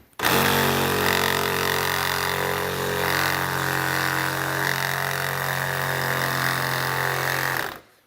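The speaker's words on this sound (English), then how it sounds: "I've cut through every one of these little pieces that are holding our two templates together" A power tool cuts steadily through the small connecting pieces holding two saddlebag lid templates together on a Harley-Davidson, a loud continuous droning whine with harmonic hum that runs nearly the full length, close up and without talk.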